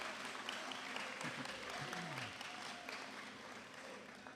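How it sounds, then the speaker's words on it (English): A school-leaving ceremony audience applauds the prefect body with a continuous wash of clapping, quiet and somewhat distant, with faint murmuring voices underneath and no clear end before it trails off. "I believe the prefect body deserves a round of applause"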